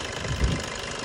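A Maruti Breeza engine idles after a carbon-cleaning treatment, giving a low, steady hum with slight vibration and one brief swell in the middle.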